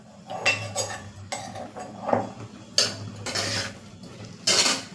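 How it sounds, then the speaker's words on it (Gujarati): Spoon clinking and scraping against a pot while garlic chutney is stirred into a green chori and potato vegetable curry, several close irregular bursts of metal-on-metal clatter. "આપણે તેને બરાબર મિક્સ કરી લેશું જેથી લસણવાળી ચટણી છે તે શાકમાં બરાબર મિક્સ થઈ જાય"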